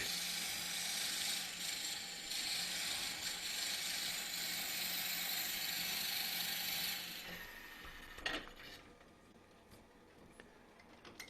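A Forstner bit drilling into wood gives a steady, loud whirring grind for about seven seconds, then cuts off, followed by quieter clicks and a brief knock.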